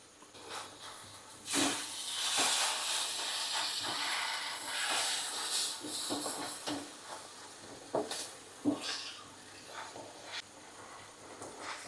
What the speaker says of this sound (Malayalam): നെയ്യ് ചൂടായി തിളച്ചിറങ്ങുന്നത് നമുക്കിവിടെ കാണാൻ കഴിയും